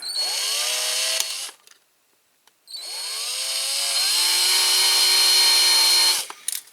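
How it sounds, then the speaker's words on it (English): A small power drill bores out a squashed rivet on a Corgi Toys Ford Consul Classic die-cast model, whining up in two close bursts separated by a brief silence, the second run longer and rising in pitch. "A little bit out the middle first with a small drill"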